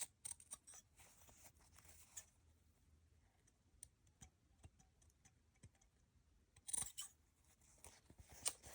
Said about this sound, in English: I'm going to clip the corners.